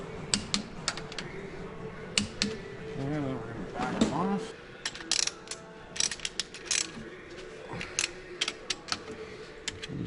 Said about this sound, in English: I'm going to torque this to 44 again.